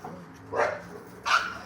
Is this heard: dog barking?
yes